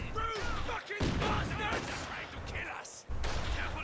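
Bursts of gunfire from a Company of Heroes 2 battle, with machine gun fire rattling in sharp clusters under a talking voice.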